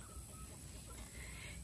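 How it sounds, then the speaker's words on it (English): Inside a crowded backyard chicken coop, many hens keep up a faint, continuous murmur of clucking over a steady background hiss, with no one speaking. "there are a lot of chickens in here, and they're going to be very upset at me"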